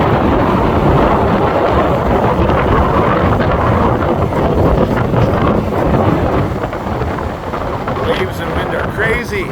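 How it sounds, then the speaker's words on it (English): Strong wind blasts the microphone with a constant roar at a Lake Michigan breakwater pier by a lighthouse, heavy waves churning beneath, loud and unbroken throughout. "Waves and wind are crazy."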